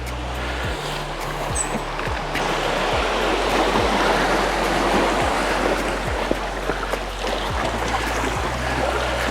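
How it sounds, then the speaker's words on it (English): Calm sea water washes in a natural rock pool on the Maltese coast near Qrendi, a steady, even hiss and wash at moderate loudness, with a low rhythmic thump recurring underneath. "Here it's very calm, the sea."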